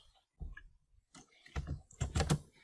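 Quiet typing on a computer keyboard while writing Excel VBA macro code: scattered soft keystrokes in small uneven clusters with pauses between them, close and faint.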